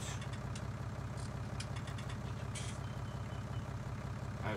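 A tractor reverses in the Farming Simulator 19 video game, its engine idling at a steady low rumble with faint intermittent reversing beeps over the top, no one talking.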